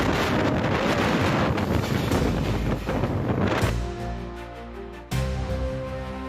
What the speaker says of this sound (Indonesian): seorang pria berusaha menahan tenda miliknya yang tertiup angin